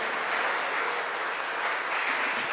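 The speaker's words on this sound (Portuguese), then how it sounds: "Uma salva de palmas para o nosso Pai" A church congregation applauds in a steady, continuous roar of many clapping hands, even and sustained from start to finish with no talk over it.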